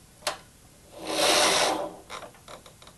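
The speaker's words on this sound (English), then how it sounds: "Knit those 6, hold them, and back up the carriage." A knitting machine carriage slides across the needle bed in one smooth, rushing pass lasting under a second, framed by a few sharp clicks and clacks before and after.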